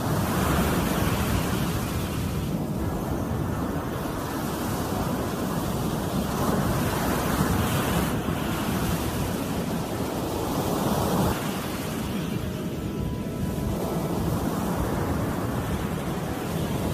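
Ocean surf rolls onto a shore in a continuous loud roar of breaking waves, with slow swells in intensity and wind buffeting the microphone.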